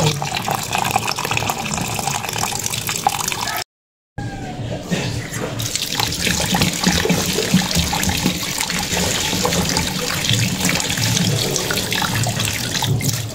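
Running tap water splashes steadily over raw meat being rinsed in a sink for soy sauce adobo, a continuous close wash broken by one brief gap, with faint talk in the background.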